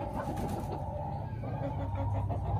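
Six-month-old white hens with a brood of six chicks cluck softly at home, a steady low murmur of fowl sounds running without pause beneath a faint background hum.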